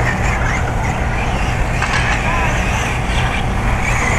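Off-road short course trucks race around a dirt track, a dense, steady engine roar that stays loud throughout while an announcer talks over it.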